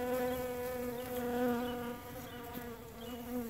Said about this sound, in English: Bees in there collecting pollen like crazy.